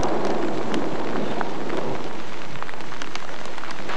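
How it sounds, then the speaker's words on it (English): Heavy rainy-season rain pours steadily onto rainforest, a dense continuous hiss with scattered sharper drop hits throughout, close and enveloping, with no voices. "This rain now is what I was expecting the whole trip, this being the rainy season."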